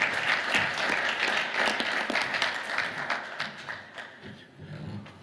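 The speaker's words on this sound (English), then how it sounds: "So, round of applause for Mr. Ben Lieberman." Applause from a conference audience at a climate change panel, a dense steady clatter of many hands at moderate level that thins slightly toward the end, with no talking over it.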